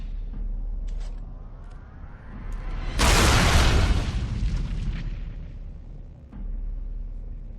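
A massive explosion destroys the anvil in Dragon Age: Origins. It erupts suddenly after a quiet, humming lead-in, then a loud, roaring blast of rumbling debris slowly fades over several seconds before the low ambience returns.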